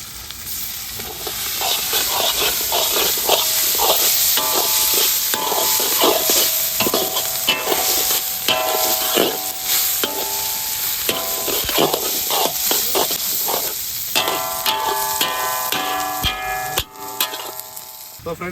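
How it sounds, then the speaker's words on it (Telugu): Fried eggs being stirred into a sizzling masala with coriander powder for egg Maggi, village-style cooking: loud continuous frying hiss with frequent clinking, scraping spatula strokes against the pan throughout. "ఇప్పుడు ఫ్రై చేసుకున్న ఎగ్స్ అయితే మనం ఇందులో వేసుకుందాం"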